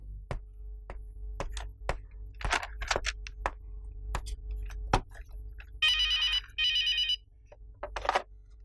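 An office desk telephone with scattered ticking and clicking, then two bursts of electronic ringing near the end, close and clear, with no speech.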